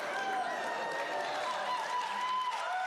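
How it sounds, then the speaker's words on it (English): Studio audience applauding and cheering at a magic show taping, a steady dense wash of clapping from many hands that holds evenly for about three seconds with no one talking over it. "Some of that applause feels sarcastic."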